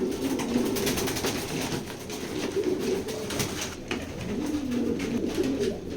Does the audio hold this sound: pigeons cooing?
yes